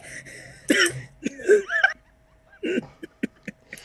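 A few short, harsh coughs break out around a brief voiced sound, followed by smaller throat noises and clicks, close and fairly loud.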